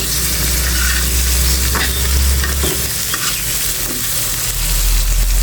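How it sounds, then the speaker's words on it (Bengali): Green chilies fry alongside pumpkin fritters in a pan: a constant close sizzle with scraping and stirring sounds throughout, and no voices. "এর ভিতরে কাঁচামরিচটা আমি ভেজে নেব"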